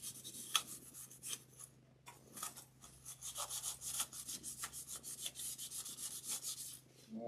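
Steady rasping rub of pastel being worked into a wooden gingerbread wreath piece, repeated scratchy strokes close to the microphone over a low background hum, with no talking.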